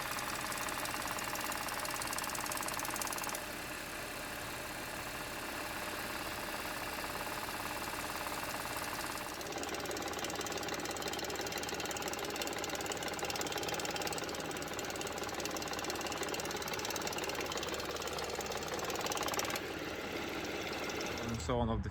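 An Audi 3.0 TFSI supercharged engine on a cold start runs with a steady mechanical rattle from the timing chain, a continuous buzzing clatter that holds for about twenty seconds with no talk.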